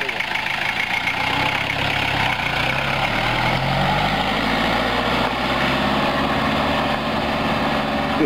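A diesel turbo engine converted into an automobile runs steadily at close range, giving a loud, continuous rumbling drone, with a voice faintly audible beneath it.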